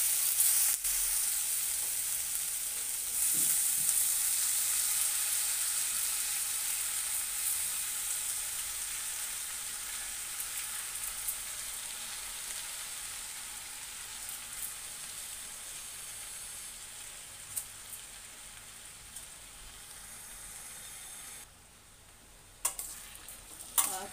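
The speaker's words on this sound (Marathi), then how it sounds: "आता मी इथे ना तांदूळ आणि ही तुरीची डाळ घेतली आहे धुवून, ती आपण याच्यामध्ये घालायची आहे" Washed rice and toor dal go into a hot pan for Khandeshi masala khichdi, giving a continuous sizzle and hiss with occasional stirring scrapes that gradually fade, no voices.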